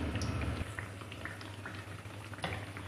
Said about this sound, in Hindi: इसी तरह हम दूसरी साइड भी फ्राई करेंगे, हल्की आंच पे फ्राई करना है।